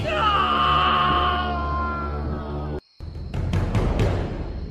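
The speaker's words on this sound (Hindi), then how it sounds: "ये देखकर राजू की चीख निकल गई।" A drawn-out, loud scream of a man in a horror story rings out with a wavering tone, then cuts to a brief silence before harsh crashing noise follows.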